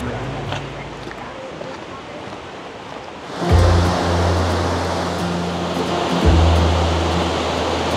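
Rushing water at Eagle Falls near Lake Tahoe pours in a steady broadband roar that swells suddenly louder partway through, with low thumps from handling a mic in wind, while a faint voice is heard briefly.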